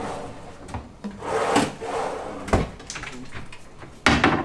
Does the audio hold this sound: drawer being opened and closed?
yes